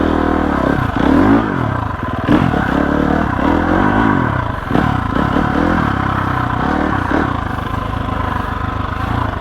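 A GasGas EX 350F dirt bike rides off-road in first gear with some clutch, its engine revving and bogging in uneven bursts, close and loud, with clattering from the bike over rough ground.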